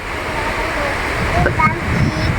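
Sea waves washing on a beach at Chao Lao, a continuous broad rushing wash, close and fairly loud, with a child and an adult talking over it.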